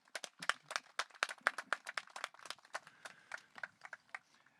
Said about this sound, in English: Maybe we should give them a round of applause for that one.